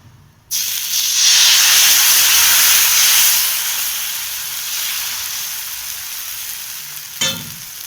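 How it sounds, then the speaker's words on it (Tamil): Rava dosa batter hits a hot stone griddle and bursts into loud, close sizzling that swells and then slowly settles into a steady hiss, with a brief metallic clink near the end. "இப்போ தோசை ஊற்றுறோம்"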